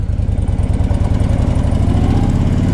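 A 2004 Harley Davidson Ultra Classic motorcycle engine runs close by with a loud, steady, throbbing low rumble and even rhythmic pulses, with no voices.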